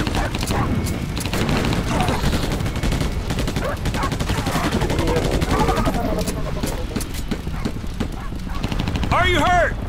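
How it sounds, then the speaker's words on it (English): Dense, rapid gunfire rattles continuously in the shooter Battle: Los Angeles. The bursts are loud and layered and play under shouted voices, ending with a short high warbling effect. "Suppressing fire!"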